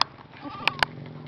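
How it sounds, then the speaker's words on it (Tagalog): A goat bleats outdoors, one short wavering call rising and falling, moderately close, with a couple of sharp clicks and faint background noise around it. "Ito si kambing"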